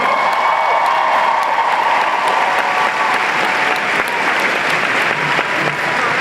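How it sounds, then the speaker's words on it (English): An audience applauds steadily and loudly as two coaches are welcomed onto a stage, dense clapping holding for several seconds with a faint tonal hum beneath. "help me bring to the stage with a huge round of applause two amazing coaches"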